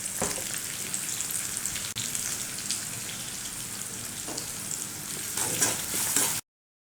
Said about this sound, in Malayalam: ആവശ്യത്തിന് ഉപ്പിട്ട് കൊടുത്തിട്ട് ഈ സവാള നന്നായിട്ടൊന്ന് വഴറ്റിയെടുക്കുക